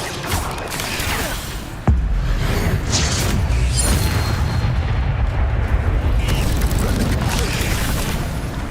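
An Incendio fire spell in Hogwarts Legacy lands with a sharp crack, then a roaring, rumbling burst of flame that carries on loudly amid busy combat noise.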